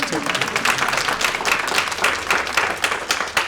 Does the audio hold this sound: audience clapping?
yes